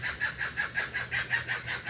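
A rooster crows repeatedly at a rural home in the morning, its calls rising and falling in a steady rhythm at moderate distance, with no talk.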